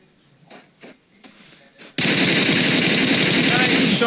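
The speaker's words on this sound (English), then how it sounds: "Nice shot by Hakim with his holo M4." Sustained automatic M4 rifle fire with a holographic sight in the battle royale game PUBG Mobile, a loud continuous burst erupting after a few softer scattered sounds and running unbroken to the end.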